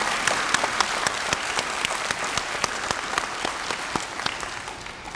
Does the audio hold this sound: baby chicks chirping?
no